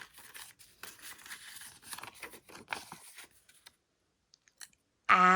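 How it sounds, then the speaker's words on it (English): A stack of picture cards is shuffled by hand in quick, soft, papery bursts of riffling and tapping, close and quiet, ending in a short louder rustle. "I'm going to shuffle these up."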